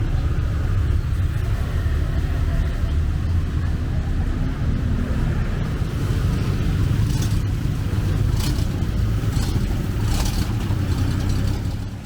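A heavy sand-hauling truck drives through muddy water, over rocks and along uneven paths, its loud engine rumbling steadily close by, with a few sharp clattering knocks near the end.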